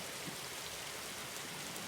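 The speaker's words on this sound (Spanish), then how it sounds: "porque llueve encima." Rain falls steadily in the video game 99 Nights in the Forest, a soft, even hiss of drops on surfaces throughout, moderately close, ending with a brief sharp knock.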